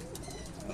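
Pigeon cooing, a short soft low coo under faint background noise, brief and fairly quiet.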